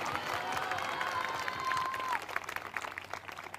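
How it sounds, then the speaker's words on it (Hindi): Congregation clapping at a prophecy worship service, a dense, moderately loud patter of many hands under a faint sustained tone that thins out toward the end. "ताली तो बजा दो, धन्यवाद तो कर दो"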